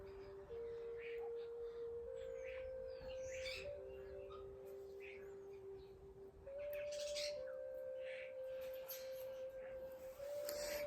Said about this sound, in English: Oh, the birds have come out in force today